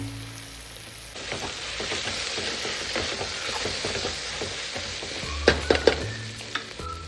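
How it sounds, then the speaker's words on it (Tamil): Onion and tomato sautéing in ghee in a pan for homemade chicken biryani give a steady close sizzle with stirring, and a few louder scraping clanks of a spoon against the pan near the end; no one speaks. "வெங்காயம் தக்காளி வதங்கிச்சு பாருங்கள்."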